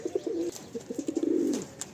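An adult pair of tournament-quality Madrasi pigeons, male and female, coo close by in a soft, rolling series of low throaty calls, with a few faint chirps in the background.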